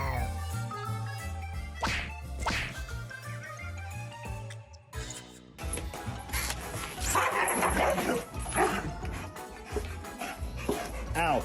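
A Belgian Malinois barks and yips indoors in sharp, irregular bursts, close and fairly loud, mixed with thwacking and jingling noises and a brief lull midway.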